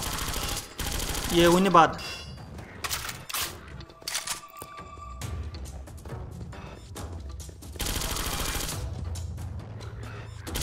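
Guns fire at zombies in the Granny House zombie-mode horror game. Sharp bursts and rapid volleys of game gunfire come in clusters, mixed with other game effects and occasional talk.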